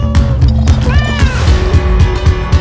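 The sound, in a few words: cat meowing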